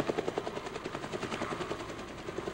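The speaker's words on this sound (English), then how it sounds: "the sling, the helicopter that will lift out the downed chopper, has not yet arrived" Helicopter over Vietnam in a wartime rescue of a downed chopper, heard as a fast, steady rotor thump with rhythmic chopping pulses and a droning engine, moderately loud and alone.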